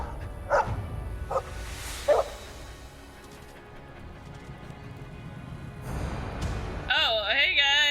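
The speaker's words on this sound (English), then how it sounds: "Is that my dog?" A dog in the video game Dragon Age Origins gives three short barks spaced across the opening seconds, set against game ambience. A player talks over the later part.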